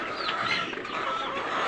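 Egyptian Fayoumi layer chickens clucking on a farm, several birds making overlapping clucks and short calls close by, fairly quiet, with no talk.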